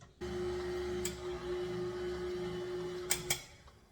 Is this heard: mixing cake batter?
yes